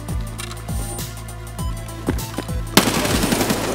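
Gunfire in the shooter Escape from Tarkov, with a steady run of sharp, evenly spaced shots building into a louder, denser volley near the end, and metallic mechanical clicks throughout.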